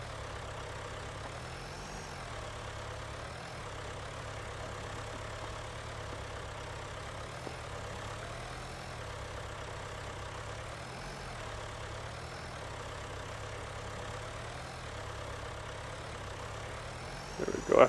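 A tractor engine idles in a survival farming video game, a steady low rumble that holds evenly throughout with a slight wavering pulse and a short bump near the end.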